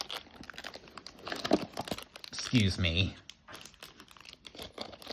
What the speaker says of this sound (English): That feels more like the plastic bag.